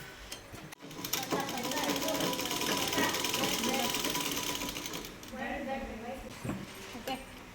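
An electric sewing machine stitches cloth for a plain pair of trousers, running in a steady, even whir for several seconds, pausing briefly, then giving shorter bursts, with a voice talking over it.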